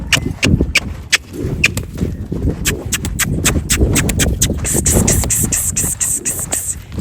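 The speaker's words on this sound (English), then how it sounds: "She's doing okay with him cantering around." Horses canter loose around an arena, their hooves clip-clopping in a quick, uneven rhythm that sounds close and fairly loud, with a faint voice now and then.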